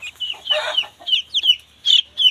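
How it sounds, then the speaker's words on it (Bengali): A Light Brahma chicken clucks up close in a series of short, separate bursts with brief pauses between them, with no other sounds. "এটা লাইট ব্রাহ্মা"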